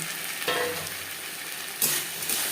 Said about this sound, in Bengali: মশলা কষিয়ে নেওয়ার পর দিয়ে দেবো আলু